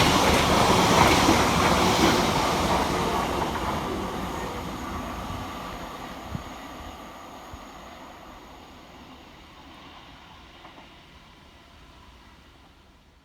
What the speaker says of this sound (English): Next up to pass through the station is 720 509, working 2H34 for Greater Anglia from London Liverpool Street through to Cambridge North